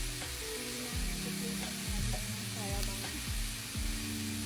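Ribeye steak sizzles and fries at a campsite, a constant loud hiss and crackle with occasional scraping stirs and soft clinks from the pan, steady throughout with no talking.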